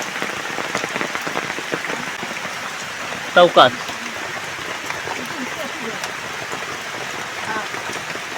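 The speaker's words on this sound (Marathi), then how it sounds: "पाऊस बघा" Steady rain falls on a village in Guhagar, Ratnagiri during Vat Purnima rites around a banyan tree, a continuous patter under voices, broken by a couple of brief sharp knocks midway.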